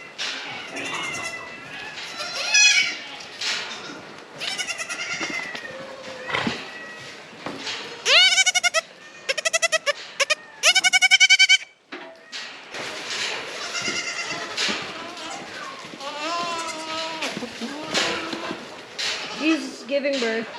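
Goats on a farm, including a mother with her young kids, bleating repeatedly over about twenty seconds: wavering, harmonic calls near and loud, some overlapping, with a few strained, shrill bursts midway and constant barnyard background noise.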